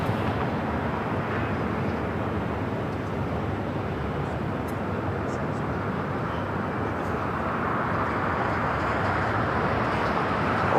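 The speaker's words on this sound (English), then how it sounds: "we got Korean Air Flight 11, the 747-8 coming in from Seoul" Korean Air Boeing 747-8 arriving at LAX from Seoul, a continuous broad roar of jet engines that holds steady and loud throughout, with no gaps or speech.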